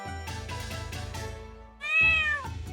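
Cat meowing close up, a rapid series of short chirping mews followed by one longer, louder drawn-out meow near the end, clear and alone.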